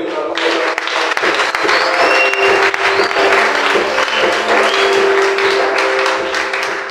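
A church congregation applauds and cheers loudly and steadily, a dense crowd of clapping with raised voices filling the room from start to finish.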